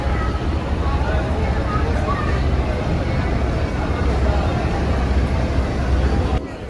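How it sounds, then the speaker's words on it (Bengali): The large passenger launch New Sabbir 3 departs Sadarghat launch terminal in Dhaka, a steady low engine and water rumble with crowd babble and someone talking over it. "আর লঞ্চটি এই মুহূর্তে ঢাকার সদরঘাট লঞ্চ টার্মিনাল ত্যাগ করছে।"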